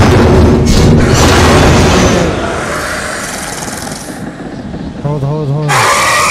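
A flare gun fires in the Until Dawn horror game, a loud booming blast heard near and up front amid broadband noise, followed by quieter rumbling and a tonal game sound near the end.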